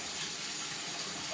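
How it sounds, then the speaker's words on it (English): Tomatoes rinsed under a running kitchen sink faucet make a continuous close hiss of flowing water, steady and alone for a moment. "I'm going over here to the sink. I'm going to rinse these"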